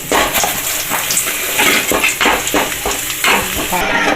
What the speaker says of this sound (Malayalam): മുന്തിരി ഇട്ടു അണ്ടിപ്പരിപ്പ് നമ്മൾ വറുത്ത് കോരി